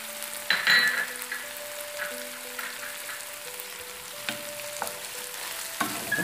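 Olives added to a hot pan of mini quiche filling fry with a steady, moderate sizzle, with a few light utensil clinks near the start and brief stirring bursts; no one speaks.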